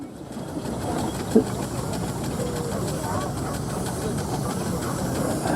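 A large four-inch McLaren steam traction engine working at a steam rally, giving off a steady loud hiss and mechanical rumble that runs unbroken through the clip, with one brief louder knock.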